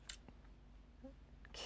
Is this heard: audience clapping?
no